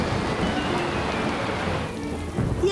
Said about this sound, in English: Look at that rain, Julian.